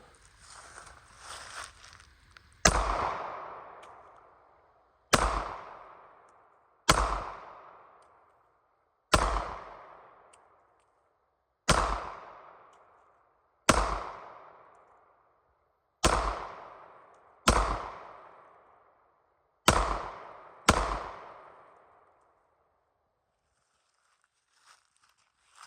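Nine sharp, loud gunshots fired one at a time at irregular intervals of roughly two seconds, each a hard crack with a short, fading echo, followed by near silence.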